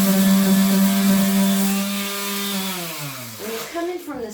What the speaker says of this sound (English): When you come in from the side with the sander